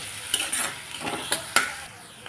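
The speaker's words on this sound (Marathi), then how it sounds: "आता टाकते मी त्याच्यात दोन बारीक चिरलेल्या शिमला मिरची" Onion fries in a pan while chopped capsicum is added and stirred in for a pasta dish, a close sizzle punctuated by quick scraping strokes and light clinks of the spoon.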